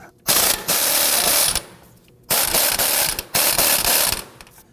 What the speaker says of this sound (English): We're going to use our gun here to go ahead and loosen and remove that nut.